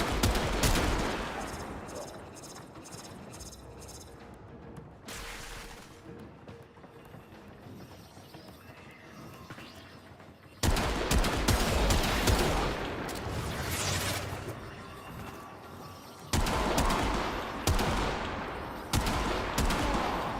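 Rapid bursts of gunfire from the video game Warframe, loud and up close, crackle in clusters with short lulls between them while a player talks over the action.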